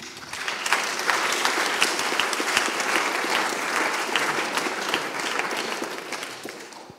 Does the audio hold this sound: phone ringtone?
no